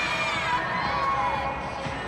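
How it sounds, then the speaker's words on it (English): Gymnastics teammates at an NCAA women's meet between Minnesota and Nebraska cheer and shout from nearby, a sustained excited crowd roar with high-pitched voices and no pauses. "Every skill she lands, her teammates are excited and clapping over there."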